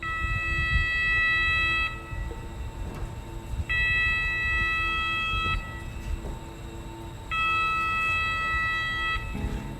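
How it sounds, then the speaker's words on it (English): Large sliding doors closing on a Type C hangar at RAF Benson in South Oxfordshire, with three long, high warning tones sounding at regular intervals over a low mechanical rumble, moderately faint. "That was the sound of doors closing at RAF Benson's D hangar in South Oxfordshire."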